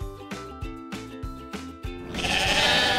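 Sheep bleat in a quick rhythmic series of short, close calls, followed by a louder burst of noise.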